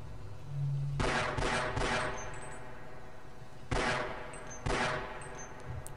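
Half-Life gunfire: a burst of loud shots, a pause, then two more sharp bursts close together, with a low rumble underneath.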